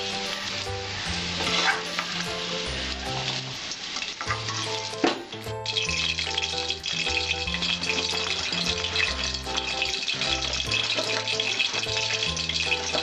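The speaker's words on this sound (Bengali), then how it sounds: "আমি পটলগুলো একটু নুন মেখে ভেজে নিচ্ছি।" Pointed gourd rubbed with salt fries in a pan with a loud, steady sizzle close by, alongside music with a regular beat and occasional stirring clatter.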